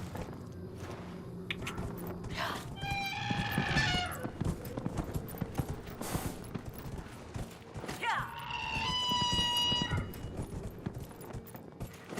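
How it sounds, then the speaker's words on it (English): Horse hooves clip-clop in a steady gallop while riding through a marsh area in the Dragon Age Inquisition video game, with a whinny-like cry rising twice over the rhythmic footfalls. "Can I take the horse here?"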